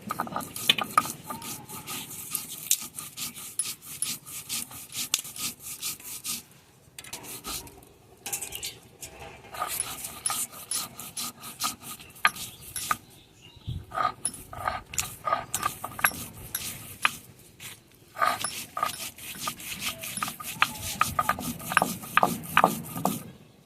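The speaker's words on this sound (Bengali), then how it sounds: "এখন এগুলো সব আমি একসঙ্গে বেটে নেব।" White and black mustard seeds and poppy seeds ground together into a paste for steamed tangra fish: repeated close rubbing, grinding strokes in rhythmic bursts with short pauses between.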